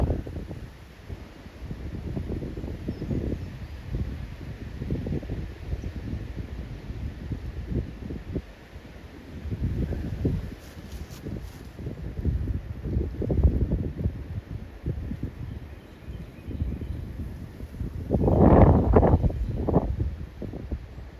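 Strong wind blows outdoors in gusty surges, low rumbling buffets against the microphone rising and falling, with a louder blast near the end.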